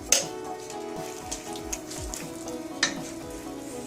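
Tomatoes and spinach cooking in a pan, seasoned with salt: a quiet, steady sizzle and bubbling with occasional soft pops and light stirring scrapes, no voices.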